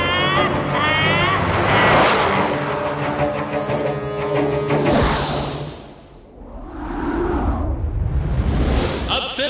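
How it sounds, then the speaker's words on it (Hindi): Racing cars overtake one another at speed on the way into a modern city, with a loud engine roar, rushing whooshes as they pass, and a swelling, fading pass-by near the middle, alongside some voices. "सभी कारें एक दूसरे को ओवरटेक करती हुई मॉडर्न सिटी के अंदर एंटर करती हैं"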